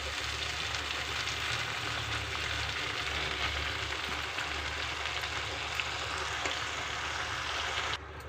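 Greens added to fried onions in a pan, frying with a steady, even hiss, like light rain, that carries on unbroken for about eight seconds before dropping slightly in level.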